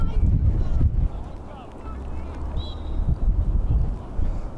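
Steady wind buffets the microphone at a cold, cloudy girls' lacrosse game, a low rumbling roar that swells and eases, with faint voices in the background.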